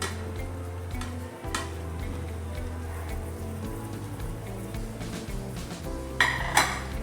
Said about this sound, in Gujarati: હવે આને આપણે બરાબર મિક્સ કરી લઈશું